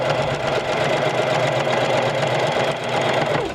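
A sewing machine runs steadily, stitching fold-over elastic onto a hybrid cloth diaper, a loud, close, continuous mechanical whir with no pauses or talk.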